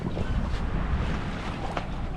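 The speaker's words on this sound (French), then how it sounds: "Le vent il monte." Wind gusting across a sailboat during a regatta, a steady loud roar buffeting the microphone with water washing along the hull throughout, no voices.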